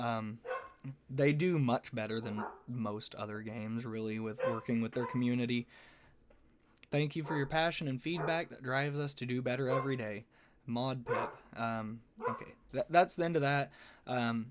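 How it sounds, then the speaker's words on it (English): Dogs bark in the background, partly masked by steady, close conversational talk that runs almost continuously through the scene. "I'm sorry my dogs are barking right now."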